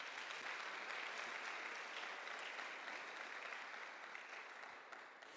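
A church congregation at a youth worship service applauds steadily, a dense wash of many hands clapping at once, faint and distant, slowly fading toward the end.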